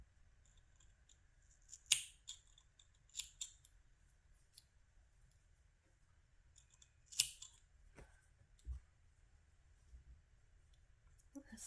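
Scissors snipping crochet yarn for a crop top, a few quiet close-up cuts in small clusters separated by near silence.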